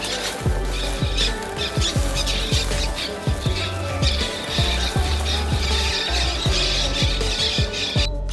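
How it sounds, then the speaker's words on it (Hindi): Several birds being released squawk loudly and repeatedly in a dense, overlapping chorus of harsh rising calls, close by and continuous, with no talk. "अब जैसे कि ये इतनी खूबसूरत चिड़ियां भी आजाद कर दी जाएंगी।"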